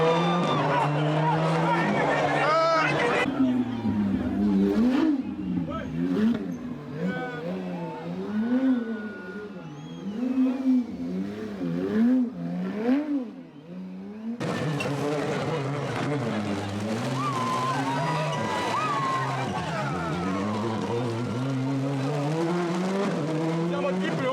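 Rally cars racing a wet night stage at Rally Martinique 2025: engines rev hard up and down through gear changes, with tires squealing, cars passing close by and a crowd or voices faintly underneath.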